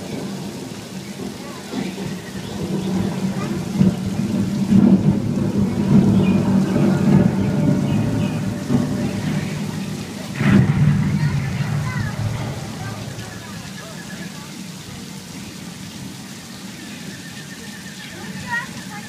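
Simulated rainstorm with thunder on a Universal Studios backlot set, a steady broad wash of pouring rain swelling in the middle with a sharp thunder-like burst, heard from a moderate distance with crowd noise beneath.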